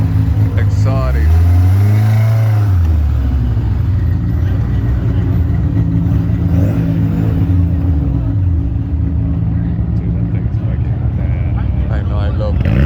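A turbocharged Mazda RX-7 at a cars-and-coffee meet revs up and settles, loud and close, with its turbo audible, while people talk over it.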